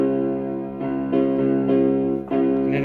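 Slow piano song played with alternating bass notes and right-hand chords, each struck cleanly with sustained ringing tones in an unhurried rhythm, no voices.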